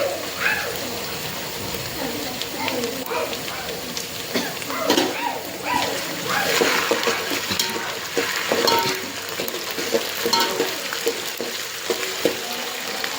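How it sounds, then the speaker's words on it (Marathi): Ginger garlic paste hits browned onions in a hot pan, crackling and sizzling steadily with scraping stirs throughout, while a voice talks over the frying. "आलू लसूणाची पेस्ट टाकणार आहे कांद्यामध्ये, कारण कांदा असा लालसर भाजलेला आहे।"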